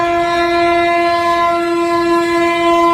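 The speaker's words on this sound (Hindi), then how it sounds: "उसी वक्त उस रेलवे ट्रैक पर एक ट्रेन आ गई" A train on a railway track holds a loud, sustained horn blast with a steady tonal drone close by, alone without talk.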